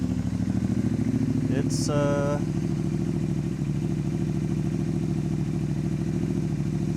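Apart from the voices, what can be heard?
project motorcycle engine starting and running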